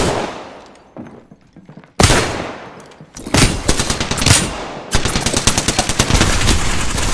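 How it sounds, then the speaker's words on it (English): Automatic gunfire rattles in a battle royale video game, with bursts of rapid shots starting loud and close, then a brief lull before more sustained fire. "Shooting at me!"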